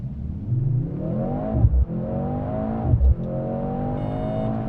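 A Mercedes-AMG C63 accelerates hard from a standstill toward 100 km/h, its engine rising in pitch through three gears with two short dips at the shifts, loud and heard from inside the car.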